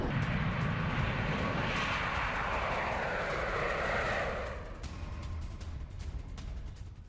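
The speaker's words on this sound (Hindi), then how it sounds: "बैरेंट सागर में TU-160 कैसे उड़ान भरता नजर आ रहा है।" Tupolev Tu-160 strategic bomber flying over the Barents Sea, a broad roaring jet rumble that holds loud for several seconds, then fades as the aircraft moves away.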